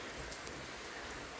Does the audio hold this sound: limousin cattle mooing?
no